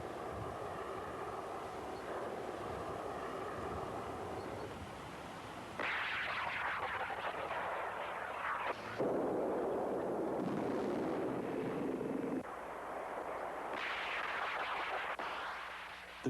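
Anti-tank missile launched by an operator in a 1987 American military documentary, heard as a muffled rushing roar that surges and shifts in stages, fairly quiet overall, with no voices.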